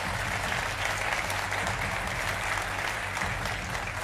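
A studio audience at a televised political debate on vote rigging claps in a dense, even applause that holds steady throughout, with a faint low hum underneath.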